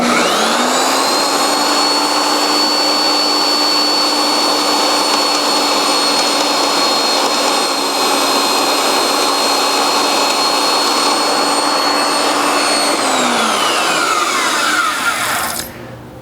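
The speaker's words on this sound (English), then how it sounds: "Now I need to cut the slot where the titanium spring is going to go." A titanium spring slot is cut into a folding knife, a steady high-pitched power-tool whine with a bright sustained tone running for about thirteen seconds before winding down at the end. No talking.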